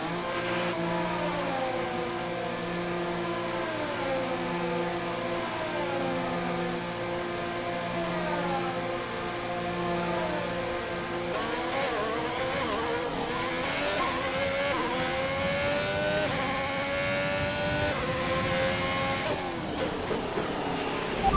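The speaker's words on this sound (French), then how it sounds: "Vas-y, mets les gaz." A Formula 1 race car in the F1 2021 video game roars steadily at high revs, with the engine pitch climbing through the gears, dropping at shifts and rising again for about twenty seconds, loud and continuous with no talking.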